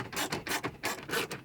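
Torx 20 screws are driven by hand into a BMW X1 screen mount, giving close rhythmic scratchy rubbing strokes in quick succession.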